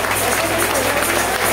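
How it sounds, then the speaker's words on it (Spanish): Steady applause from a crowd at a dance gathering, dense continuous clapping held at an even level throughout. "vamos a brindarle un fuerte aplauso a nuestro amigo Javier Azuaje"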